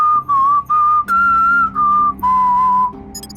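A person whistles a wavering melody in several short phrases with brief pauses between them, close and clear.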